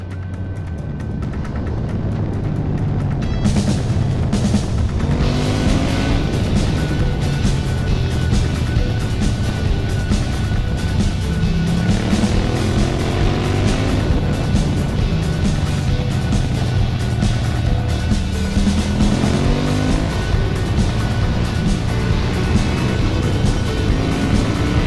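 A KTM 790 Adventure motorcycle accelerates hard out of a corner, its engine note rising and falling in repeated sweeps, loud and close with steady road and wind noise throughout.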